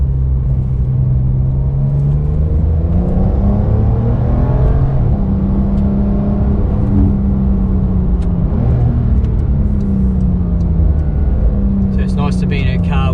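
A Porsche 992 Carrera S engine, driven in manual mode with the gears held longer, drones loudly from inside the cabin, its pitch rising and falling through the revs in steady pulls with no talking.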